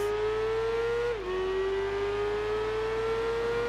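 Motorbike engines in the Tourist Trophy racing video game, two Hondas and two Kawasakis, hold a steady high whine off the start line, with a brief dip before the pitch resumes climbing slowly, loud and continuous.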